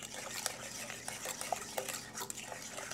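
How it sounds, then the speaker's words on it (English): Cheese sauce for macaroni and cheese being whisked in a pot, with rhythmic scraping and clinking strokes close up, moderately quiet, and no voices. "since we're whisking it now, I didn't worry about it that much"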